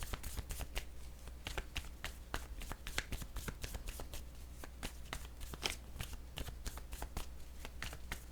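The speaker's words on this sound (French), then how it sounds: "Je vais déposer une carte sur le chagrin." Tarot-style cards are handled and shuffled close by on a table, making quick, soft repeated flicks and riffles in a dense, even rhythm at low volume.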